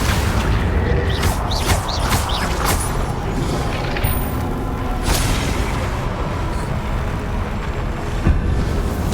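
Confringo explosion spell going off in the Hogwarts Legacy video game, a loud dense roar of booming blasts and crackling debris that stays thick throughout, with sharp whooshing spell sweeps layered over it.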